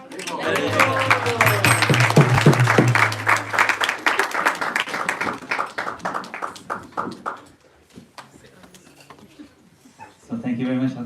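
An audience at a Sunday feast class for a speaker bursts into clapping mixed with loud voices, fading toward quieter scattered sounds before a brief swell at the end.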